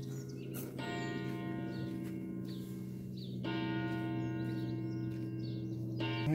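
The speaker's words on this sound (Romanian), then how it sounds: "Din deal se aude clopotul." A church bell tolls from a hill in Roșia Montană, a village in the Apuseni Mountains, with rich ringing overtones, about two strikes, each left to resonate. The sound is steady and moderately distant with faint birds around it.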